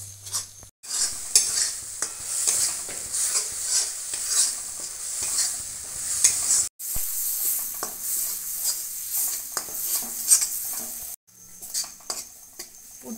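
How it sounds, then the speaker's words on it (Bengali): A spoon scrapes and stirs spiced spinach puri filling in a pan, a quiet scratchy clatter with a soft sizzle underneath, broken by a few brief pauses. "সব একসঙ্গে আমি এবার ভালো করে নেড়ে নেব।"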